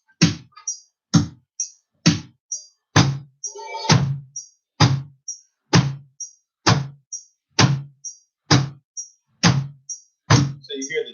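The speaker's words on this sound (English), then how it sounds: "you hear the chick sound." A drum kit's hi-hat pedal played alongside other drum strokes: a steady run of about a dozen solid thuds, each paired with a short bright chick, close and evenly spaced with no talk.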